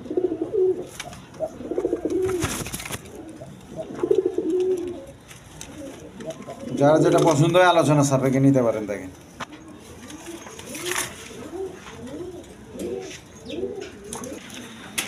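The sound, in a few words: pigeons cooing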